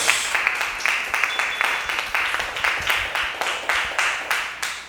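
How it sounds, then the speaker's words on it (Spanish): A church congregation at a worship service claps together in a steady, even rhythm, roughly three claps per second, sounding full and close throughout with no talking over it. "Vamos a aplaudir al Señor con alegría."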